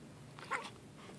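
A grumpy, overweight cat gives one short, low, grumbling vocalization at close range, a brief mid-clip burst over faint room noise.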